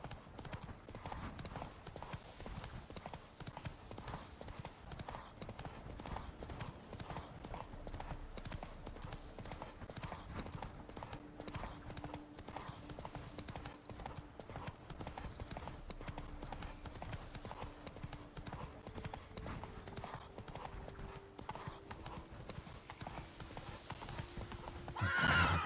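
Geralt's horse gallops in The Witcher 3: Wild Hunt on PS5, with a rapid continuous clip-clop of hooves and a rider's voice faintly heard under it.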